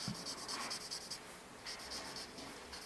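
A ballpoint pen draws on paper while a perspective sketch of a room is made: quick, close scratchy strokes come in rhythmic bursts, pause briefly, then resume, with no talking.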